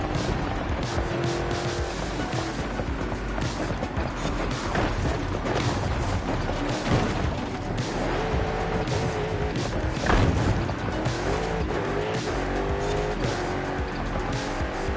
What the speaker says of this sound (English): It's a little weird trying to drive in cockpit mode.